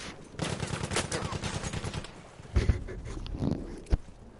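Rapid automatic gunfire from a tournament first-person shooter match, a long sustained burst emptying a magazine, followed by scattered separate shots and a sharp final report at moderate distance.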